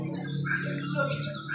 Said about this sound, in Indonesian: Ini ada gelatik Jawa.